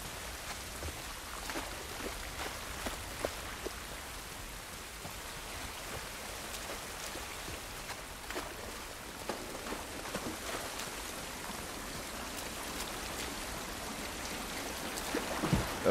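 Steady rain falls outdoors in the video game The Last of Us Part 1, a dense, even hiss of drops on surfaces with scattered louder patters, continuous throughout and heard alone.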